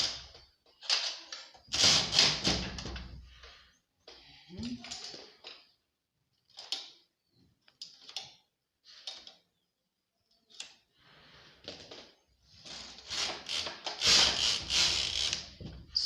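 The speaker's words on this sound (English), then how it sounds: "Now we are going to knit. I'm going to pass over the carriage." A knitting machine carriage sliding across a bed of needles gives repeated rattling, clacking mechanical sweeps in bursts, close and fairly loud, with a voice talking in the gaps.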